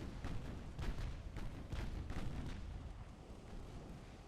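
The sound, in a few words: naval guns firing in video game Ultimate Admiral: Dreadnoughts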